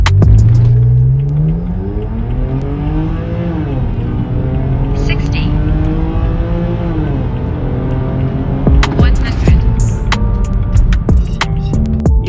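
A BMW E90 325i/330i with a Z-pipe and fully straight-through muffler with exhaust valves accelerates hard from a standstill, its loud engine note rising through gears with a dip at each shift, continuous and close throughout.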